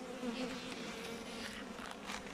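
Honey bees buzz steadily around an open hive during a spring inspection, a continuous close droning hum with no voices.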